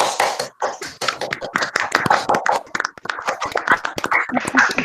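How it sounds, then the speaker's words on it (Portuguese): Scattered, uneven hand claps and taps from a small group, sharp and close, with some voices mixed in. "a gente dar uma salva de palmas para vocês"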